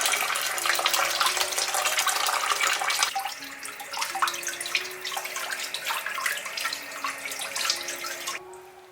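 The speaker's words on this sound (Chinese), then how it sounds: "我们把它清洗干净" Tap water runs steadily as four thawed duck legs are rinsed under it in a sink, the stream splashing and shifting as the meat is turned, close and continuous with no talking.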